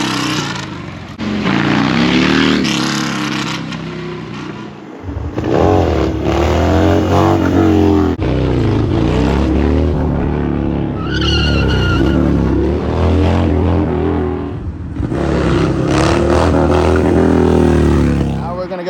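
A motorcycle revs hard during wheelie practice at an abandoned bridge, its engine roaring loud and close in repeated surges and drops, with tire noise in places and voices briefly heard.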